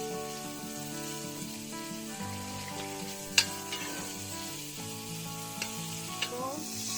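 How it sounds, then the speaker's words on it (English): Sausage sautéing in a hot pan for a Goiás-style rice dish, a constant close sizzle with stirring scrapes and a few sharp utensil clinks. "Then I'm going to saute the sausage"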